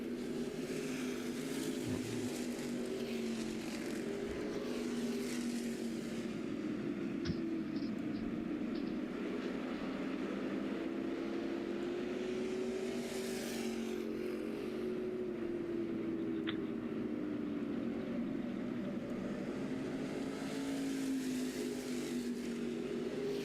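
Sprint cars race around a dirt track, a steady droning engine roar with the pitch rising and falling as the cars circle. It holds at a fairly distant, even level for the whole stretch, with no one talking.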